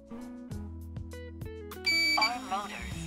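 A drone fitted with a TBS retrofit kit sounds its arming tones: steady, evenly spaced electronic beeps about every half second, then a brighter, louder warbling tone, close and clear over a low hum.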